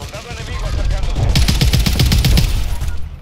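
Rapid bursts of gunfire crackle through a busy game soundscape, with a dense run of shots in the second half and voices talking underneath.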